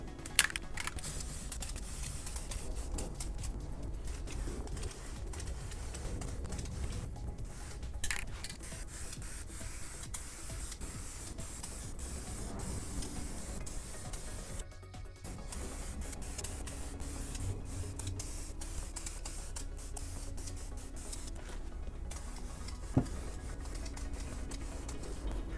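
An aerosol can sprays a wet coat of paint onto a homemade Boba Fett jet pack, a steady close hiss that runs in long bursts with brief pauses, no talk over it.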